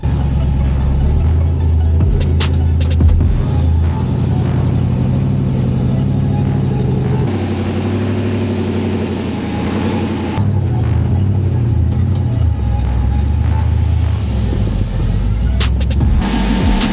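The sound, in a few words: off-road rock crawler engine, front tires spinning on the trail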